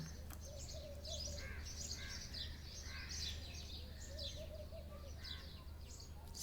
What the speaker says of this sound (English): Listening to the sounds of the beautiful birds around